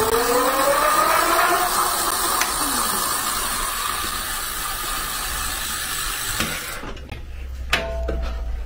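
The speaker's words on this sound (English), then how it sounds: "If you tilt the bike over, I'm gonna go ahead and hit the throttle." Aventon Adventure 750W electric bike motor spinning on throttle with the bike tilted over, a steady rising whine and mechanical whir that winds up, holds, then cuts off with a few ratcheting clicks as the wheel coasts, close up.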